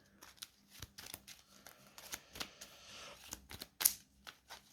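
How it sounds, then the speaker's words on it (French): Mage Knight board game cards being shuffled by hand, a run of quick crisp riffling snaps and soft slides with brief pauses, close and fairly quiet, with no talking. "je vais mélanger ses cartes."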